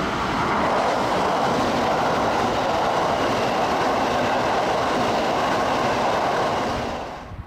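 A Kintetsu express train runs through Higashi-Ikoma station in hilly country, a loud continuous rush of wheels and rail noise that holds steady close by before trailing off at the end.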